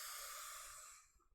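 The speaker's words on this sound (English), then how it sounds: "deep, gentle inhales through the nose or the mouth" A deep, gentle inhale through the nose or mouth during a guided meditation, one soft airy breath close to the microphone that fades out over about a second.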